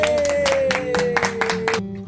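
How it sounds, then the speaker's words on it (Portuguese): Several sharp claps in a quick, uneven run over a steady sustained tone, ending abruptly after about two seconds. "Salve de palmas!"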